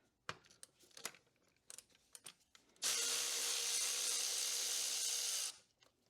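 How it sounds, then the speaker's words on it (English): A power tool runs for about three seconds while undoing a bolt in a Subaru engine bay, preceded by scattered clicks and taps of handling parts and fittings. "it's time to undo this bolt right here"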